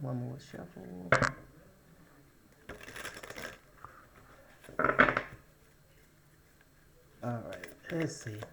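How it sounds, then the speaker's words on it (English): Oracle cards from a cosmic insights deck being shuffled in several short, crisp bursts of riffling, with quiet talk in between. "One more time. One more shuffle."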